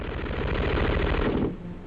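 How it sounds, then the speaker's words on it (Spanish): An MG-42 machine gun fires a rapid continuous burst of about a second and a half, the shots blurring into a loud ripping roar before cutting off abruptly. "la extraordinaria velocidad de disparo de la MG-42 tenía sus deficiencias"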